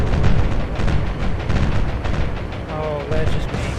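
Naval air strike in the game War On The Sea, with dense, continuous rumbling explosions and gunfire loud throughout and a brief tonal whine near the end.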